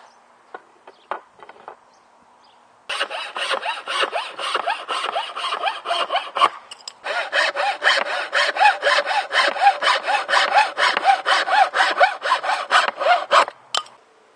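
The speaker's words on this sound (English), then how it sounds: "now I'm going to go ahead and cut down the internal wooden dowels." A handsaw cuts through wooden dowels in quick rhythmic strokes, a few tentative scrapes first, then steady back-and-forth rasping that pauses briefly before resuming.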